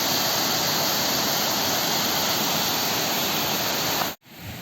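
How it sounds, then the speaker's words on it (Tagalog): A strong current rushes at Aberdeen Upper Reservoir in Hong Kong as a loud, unbroken roar of water, up close and steady, and then it cuts off abruptly near the end. "Ang lakas ng Agos."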